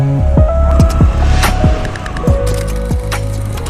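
Loud, close road traffic with passing vehicles, engine hum and rising and falling tones from cars going by, plus scattered knocks and rattles, no speech.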